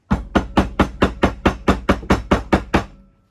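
Eleven sharp hammer blows in a steady, even rhythm, close and loud, ending in a faint ringing hum, while making an awl from an old screwdriver.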